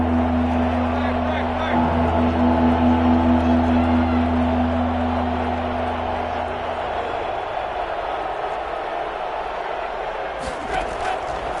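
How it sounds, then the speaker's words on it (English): Crowd noise in an American football video game, a steady roar building ahead of a big third down, running under broadcast-style commentary throughout. "the crowd getting into it as we come up on a big 3rd down"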